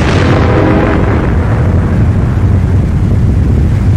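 The Cannikin underground nuclear test, a five-megaton blast, produces a loud, sustained roar of deep rumbling that stays heavy and unbroken throughout.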